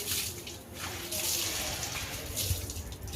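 Water splashes and runs continuously while a vehicle is washed for Vishwakarma puja, a steady close rushing with a few louder splashes and faint voices in the background.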